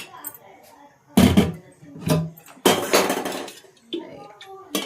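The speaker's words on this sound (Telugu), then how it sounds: "ఇప్పుడైతే పొయ్యి మీద వచ్చేసిన గిన్నె పెట్టి ఇప్పుడు ఆయిల్ వేద్దాం." A cooking pot is set down on a home stove before tempering a dal made with leafy greens, giving a few sharp metallic clanks and knocks spaced between stretches of someone talking.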